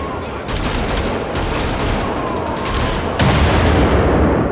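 Shotgun blasts in a first-person shooter video game, a dense run of loud overlapping shots and booms with little break, heavier toward the end.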